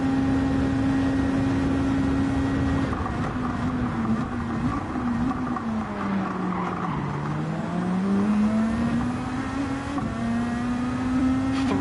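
Race cars, among them a Mercedes CLK, roar around Circuit de la Sarthe in Gran Turismo 7, a loud sustained engine drone whose pitch dips and climbs again through a corner, with faint tyre noise and other cars close by.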